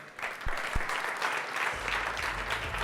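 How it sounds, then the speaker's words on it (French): Brief burst of audience applause at an award ceremony, a dense even patter of many clapping hands, with a low rumble joining partway through. "je vous demanderai aussi d'applaudir"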